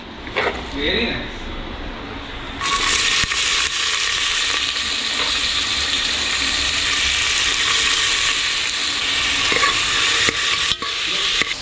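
Chopped onion and cumin seeds frying in a pan, a quiet start followed by a sudden loud, steady sizzle that holds, with occasional stirring clinks and a voice speaking.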